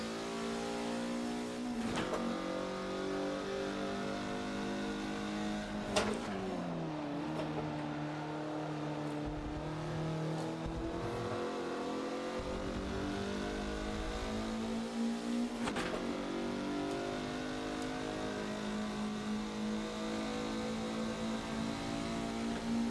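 A race car in Forza Motorsport 7 lapping a circuit, its engine revving steadily with pitch dips and rises as it brakes and accelerates through corners, continuous and close with no talk.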